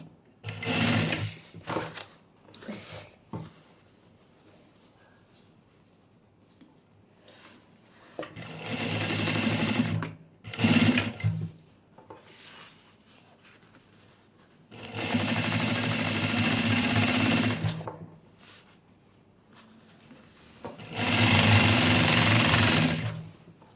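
A sewing machine stitches folded fabric in several bursts of steady rapid whirring, the longer runs near the middle and end, separated by quieter gaps with handling noises.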